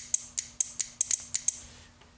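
Close, sharp relay clicks repeat about eight times in a fast, slightly uneven rhythm, then stop, leaving a low background hum.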